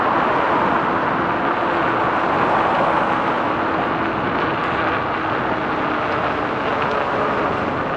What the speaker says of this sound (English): Leave it to me to talk when there's traffic.